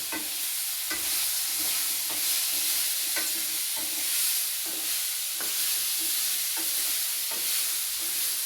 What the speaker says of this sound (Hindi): कटे हुए टुकड़े धीरे धीरे उस कढ़ाई में छोड़ दिए हैं, थोड़े से भुनने के लिए और थोड़े से गलने के लिए